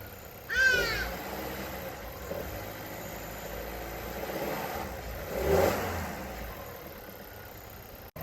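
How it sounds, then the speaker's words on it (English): A VW Polo starts up with a short whining crank and then settles into a very quiet, low idle, with a second brief rise in engine sound partway through. "I'm gonna start up with this car, and you're gonna hear how quiet this car is."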